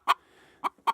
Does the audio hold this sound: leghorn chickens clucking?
yes